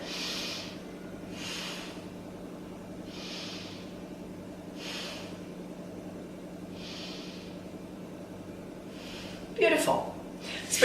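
Deep, slow breaths during a yoga balance pose, about five soft airy inhales and exhales evenly spaced and close to the mic, over a faint low hum, followed by a brief louder rustle at the end.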